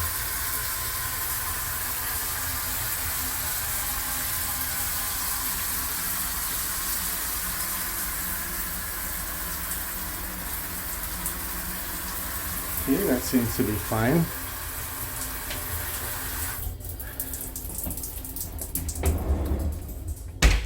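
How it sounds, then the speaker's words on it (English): A shower head sprays steadily in a cabin bathroom aboard the Carnival Mardi Gras cruise ship, giving a continuous hiss of running water with a voice speaking briefly near the end. "let me just turn the shower head to the wall so I could check the pressure"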